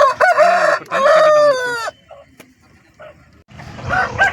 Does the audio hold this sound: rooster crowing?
yes